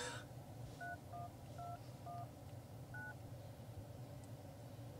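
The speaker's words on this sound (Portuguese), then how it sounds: "Você também consegue discar através do botão rosinha ali, que ele vai te dar uh, os números de discagem." Android Auto dialing tones play in a 2019 Ford Ka: a quick series of about five beeps, a short pause, then one more, all over a low steady cabin hum.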